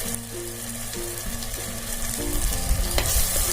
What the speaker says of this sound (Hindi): सारी चीजों को हमें अच्छी तरह से भून लेना है